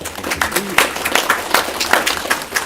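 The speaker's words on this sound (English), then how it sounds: "So if y'all give him a round of applause." Applause at a ceremony honoring a man's years of service: a steady patter of hand claps from a crowd, moderately loud, with some talking mixed in.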